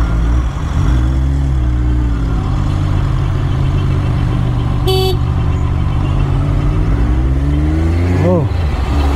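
Dense road traffic jam around a rider on a Kawasaki Z1000, with steady engine rumble and idling vehicles close by, a brief horn toot midway and a rising rev near the end, continuous and loud throughout.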